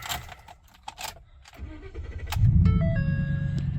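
A car engine cranks and catches after some clicks and key-like jingles, then settles into a steady, fairly loud idle with a low rumble, close by.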